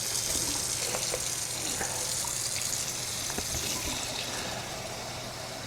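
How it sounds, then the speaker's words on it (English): Cold water runs steadily from a kitchen sink tap onto bell peppers, a continuous broadband splashing stream that stays loud and even throughout with no talk. "I'm going to add some cold water to them bell peppers we've been having sitting here."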